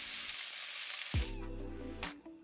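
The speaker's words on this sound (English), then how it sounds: "if it doesn't sizzle like this, you didn't wait long enough." Pork drops into a pan of smoking-hot olive oil and bursts into a loud, crackling sizzle that continues. A quieter hiss runs before it starts, and a second flare of sizzling follows shortly after.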